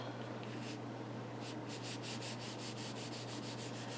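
Rubbing strokes on a folded paper greeting card to set glue, a steady run of close, dry swishing rubs repeating at an even, quick rhythm over a low background hum.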